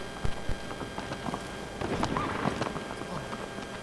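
Horse hooves clop across the ground in the video game Shadow of the Colossus, a few scattered steps at first and then a faster run of hoofbeats over low background wind.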